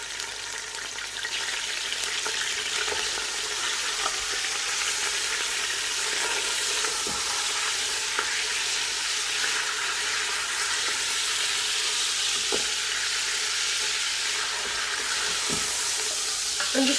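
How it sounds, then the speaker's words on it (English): Pieces of lamb leg frying in hot oil in a pan, a loud steady sizzle and crackle running continuously, close up, with occasional sharper pops and no talking. "We're just going to throw that in, and then we're just going to fry it until it's slightly changed colour."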